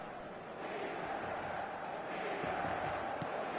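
Stadium crowd in an eFootball match, a steady broad roar of many voices that swells slightly over the few seconds, continuous and fairly even with no single voices standing out.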